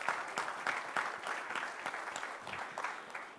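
Applause from an audience at an institute's foundation day celebration, a steady moderately loud patter of many hands clapping for a few seconds with no talking over it.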